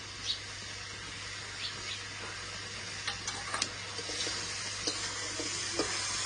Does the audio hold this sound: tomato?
yes